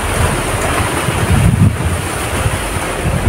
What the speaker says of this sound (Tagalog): malakas po ngayong hangin ngayon dito